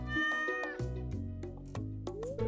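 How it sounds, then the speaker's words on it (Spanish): A stray cat in the Stardew Valley video game meows several times in quick succession, clear and close, with short rising and falling cries over soft in-game background music. "¿Ves a este gato?"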